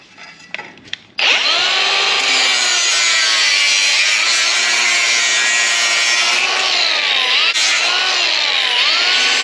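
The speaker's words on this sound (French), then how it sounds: "Hop, on découpe les tubes." A power saw cuts through metal tubes in a workshop. After a brief quiet start it launches into a loud, sustained, high-pitched grinding whine that holds steady, with slight pitch dips as the blade bites.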